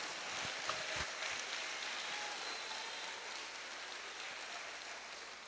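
Church congregation applauding during a Portuguese-language communion service, a faint, dense wash of clapping with a few sharper claps near the start, fairly distant and slowly thinning out.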